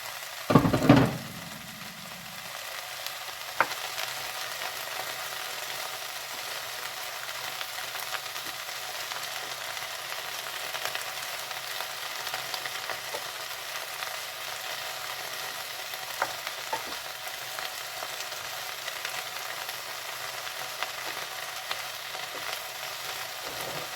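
Onions frying and simmering in a pan in a home kitchen, a steady soft sizzle running throughout after a brief louder clatter at the start, with no talking.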